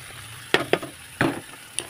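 Sliced shallots and spring onion sautéing in a pan with tomato, anchovies and crumbled tempeh, a few short stirring scrapes and sizzle bursts over a low steady frying hiss, close and fairly quiet.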